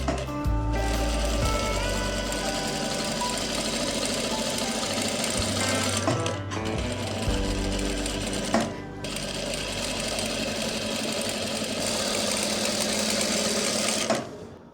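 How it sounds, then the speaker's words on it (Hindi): A sewing machine stitches the fitting seam of a frock in close, loud whirring runs, pausing briefly a couple of times before starting again, with no talking over it. "तो अब हम फिटिंग की सिलाई लगाएंगे यहाँ"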